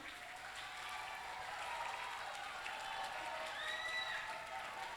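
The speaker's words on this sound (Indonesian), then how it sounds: "Tepuk tangan untuk kita semuanya dong." Applause from an online meeting audience at a vocational school session, a steady wash of clapping heard faint and distant throughout, with some crowd noise and light tonal sounds mixed in.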